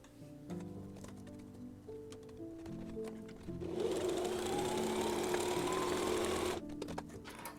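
A sewing machine stitches fabric with the thread tension set to 8, a quiet run of rapid mechanical ticking that swells into a steadier, louder whir for a few seconds before stopping.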